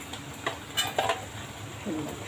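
Chili powder and garam masala sautéing in hot oil for Maharashtrian kat amti, with a soft ongoing sizzle broken by several short, sharp scraping and clinking stirs of a spoon against the pot.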